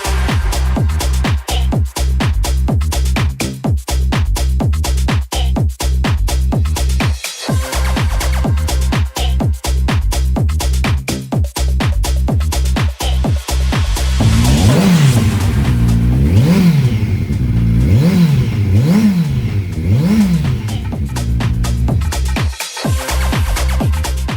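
A 2021 Kawasaki Ninja 1000 SX ABS with 6,520 miles runs loud and close, its engine held at a steady idle and then blipped through several quick rising-and-falling revs, with no talk over it.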